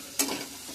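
A single quick scrape of a spoon stirs drumstick masala curry with chili powder in a pan over a soft sizzle; the stroke is brief and close.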